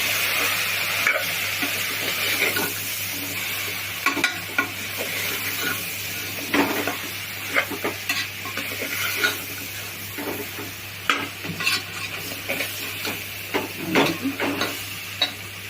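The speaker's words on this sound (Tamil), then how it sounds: "கொஞ்சம் நல்லா வதக்கணும்." Steady sizzling of spices and garam masala sautéing in a pan for hotel-style vegetable kurma, with intermittent scraping and clinking as a utensil stirs, close and continuous with no talking.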